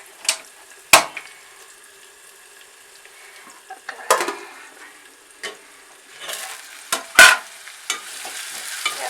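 Onions cooking in a pan, a faint quiet sizzle broken by several sharp utensil scrapes and clinks from stirring, close by, with no voices.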